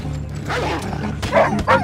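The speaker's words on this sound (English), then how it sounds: "Damn dogs." Wolves in the open-world western game Red Dead Redemption 2 let out a few close, sharp barks and yips in quick succession, loud and up front with little else around them.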